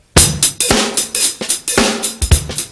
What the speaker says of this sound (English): And you can mess with the hi-hat.